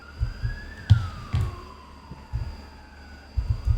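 A police siren wails in the video game Schedule 1, a single rising then slowly falling tone held at a moderate distance, with low knocks and thuds underneath.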